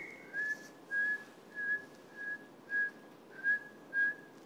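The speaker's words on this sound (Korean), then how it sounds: "휘파람 연속으로 일곱 번 불기." Seven short, clear whistled notes on one steady pitch, evenly spaced and fairly quiet, performed alone as a variety-show challenge with no talking.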